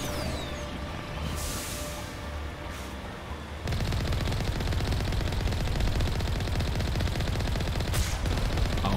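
Sustained video game gunfire from Mass Effect Legendary Edition during the Virmire landing, rapid automatic bursts that grow denser and louder partway through, with a sharp crack near the start and another near the end, loud and close without talk.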